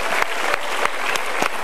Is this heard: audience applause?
yes